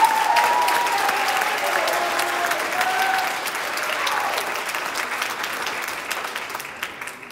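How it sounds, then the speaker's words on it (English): Applause from a school Christmas concert audience fills the hall, a loud, dense wash of many hands clapping that holds steady for several seconds before gradually thinning out. "So please give them a round of applause."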